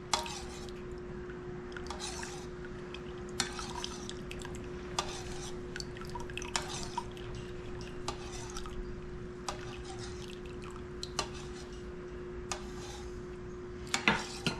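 Lemon juice trickles slowly into milk for goat cheese while a spoon stirs it up and down, giving faint drips, soft squishy liquid movement and occasional light clinks against the pot, heard close and quiet with no talking.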